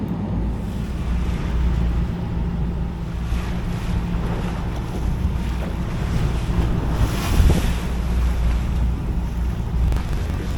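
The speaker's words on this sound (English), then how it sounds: "we're covering a little backwash with the swells hitting that headland and running back out to sea" Ocean swells hitting a headland with backwash running out to sea, a continuous loud roar of surf and wind heard from a boat, with a surge of water partway through.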